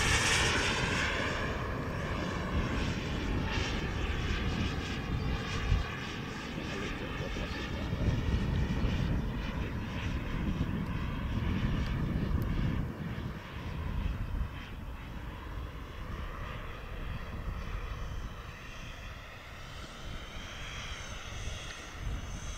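A Freewing L-39 Albatros RC jet fitted with an X45 turbine engine roars with a sustained whooshing whine, rising and falling as it passes, loud and continuous under outdoor wind noise.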